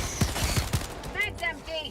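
Shotgun blasts in the video game Helldivers 2, three or four loud booming shots in quick succession, followed by game sounds and chirping tones.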